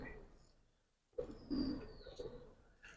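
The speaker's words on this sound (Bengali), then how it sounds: "খুবই সুন্দর কবুতর ভাই" A Giribaz pigeon gives a short, low coo close by, fairly soft, with faint background murmur around it.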